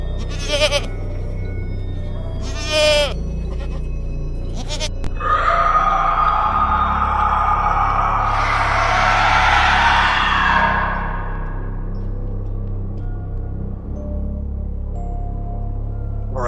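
A goat bleats loudly in several quavering calls, the last a long drawn-out cry, over a steady low rumble of background noise.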